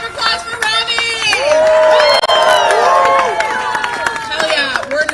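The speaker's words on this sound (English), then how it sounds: "one more round of applause for Robbie" Crowd at an outdoor Starbucks workers' rally for a new contract cheering, whooping and clapping, a dense, loud swell of many voices that peaks in the middle and stays busy throughout.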